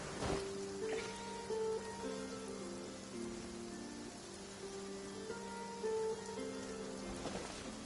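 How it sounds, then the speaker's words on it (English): Steady rain falling in Genshin Impact, a constant broadband hiss that runs the whole stretch, with soft game music tones layered over it and no talking. "The raining's falling upward."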